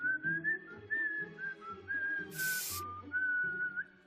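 A melodic tune whistled alone, clear and steady, with short pauses between phrases and a brief burst of hiss midway.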